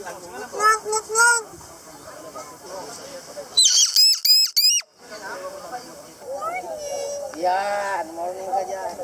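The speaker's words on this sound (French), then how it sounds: "Conversation avec un cousin des perroquets qui parle l'anglais." A talking parrot relative squawks and chatters in the Philippines, with bursts of harsh, high squawks and raspy speech-like calls close up, alongside people talking.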